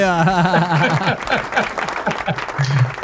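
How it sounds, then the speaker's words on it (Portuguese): Audience applause at an organ donation charity run event, continuous clapping heard beneath a speaking voice and some laughter throughout. "Palmas pra patroa"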